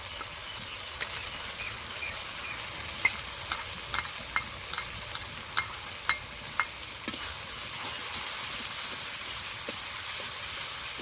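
Fish curry masala with ground coriander leaf paste sautéing in a pan, a steady loud sizzle with a spoon tapping and scraping in a loose rhythm, close and without talk.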